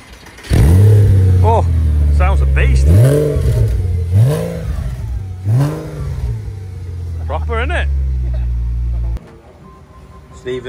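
A car engine cranks and catches, then revs up and down in several rising-and-falling surges, loud and close, before shutting off. Talk is mixed in.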